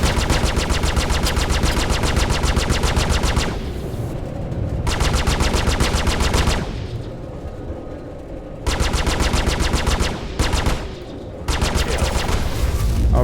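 Ship-mounted size 2 repeater cannons firing in Star Citizen, loud sustained rapid-fire bursts of several seconds each, separated by brief pauses with softer engine hum between.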